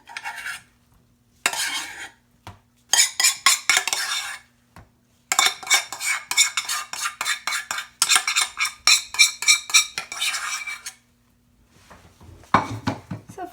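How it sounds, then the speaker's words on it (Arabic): A fork pricking pizza dough spread in a metal baking pan, close quick bursts of rapid tapping and scraping against the pan, separated by short silent pauses. "كنتقبعها بالفرشيط باش ما تنفخش"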